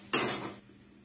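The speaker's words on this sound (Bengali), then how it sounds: "মশলাটাকে সিদ্ধ হবার জন্য এখন আমরা ঢাকিয়ে দেব।" A metal lid lands on a cooking pot of simmering spices with one bright, close clang that rings briefly and fades to quiet.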